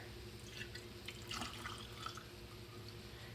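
Water trickles and drips into a mason jar of goldenrod steeping in Everclear for a tincture, a faint, continuous pour with small splashy spurts throughout.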